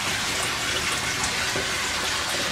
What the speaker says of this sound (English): And that also gets aerated when the water dumps in here.